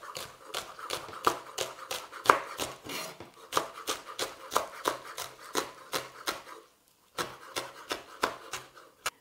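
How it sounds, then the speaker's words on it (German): A knife slices spring onions into rings on a cutting board, a quick, steady series of crisp taps and chops with one short pause, close and fairly quiet with no talking. "Jetzt werden sie einfach in Ringe geschnitten."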